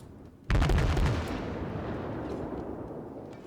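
Warship secondary guns in World of Warships open fire in a sudden loud salvo of overlapping booms, then decay into a long rolling rumble.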